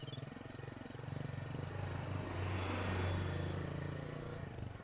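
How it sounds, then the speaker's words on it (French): A hovercraft scooter engine hums and then rises in a steady, droning roar as the craft speeds away, with no voices over it. "La jeune fille enclenche le moteur et les voilà partis à vive allure."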